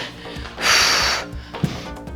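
A single forceful breath pushed out during a functional full-body workout exercise, heard as a sharp, close, breathy rush lasting about half a second, followed by a quieter short snort.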